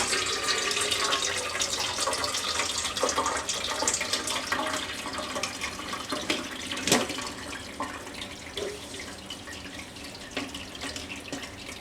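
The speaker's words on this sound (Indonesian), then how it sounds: "Sekarang kita tuang dia pakai saringan ya." Hot cooking water from noodles for Batak mie gomak poured through a strainer, a steady splashing, gurgling stream that stays even throughout, close and moderately quiet.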